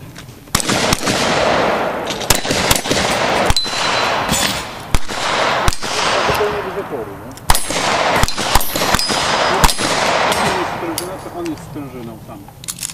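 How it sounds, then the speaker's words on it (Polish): Repeated gunfire from people shooting, sharp cracks and bursts spread across the clip at varied intervals, loud and close, with talk in between and a steady background hiss. "oni strzelają"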